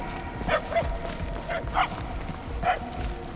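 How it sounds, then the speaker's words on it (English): Inside the Marvel's Guardians of the Galaxy video game, a dog barks repeatedly at a distance, the yips moderately faint over a low, busy ambient rumble. "If you're trying to follow the barks"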